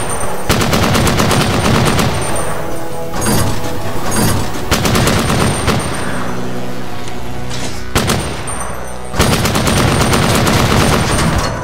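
Heavy automatic gunfire from the shooter game DOOM: Hideous Destructor roars almost continuously in loud rapid bursts with brief pauses, dense and close, with explosive booms mixed in.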